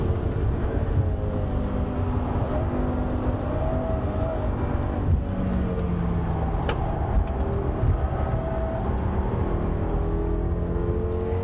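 A 2014 BMW M6 Gran Coupé at speed on a race track, its engine a steady loud drone with shifting harmonics and wind and tyre roar filling the whole stretch, no voices.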